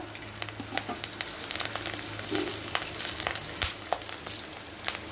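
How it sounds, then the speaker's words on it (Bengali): Radhuni seeds and green chillies fry in hot oil with a bright continuous sizzle, frequent sharp pops and crackles, and scraping stirring strokes in the pan. "এটা রাঁধুনি একটু রাঁধুনি ফোড়ন দিয়ে দিলাম দিয়ে দেব কাঁচা লঙ্কা"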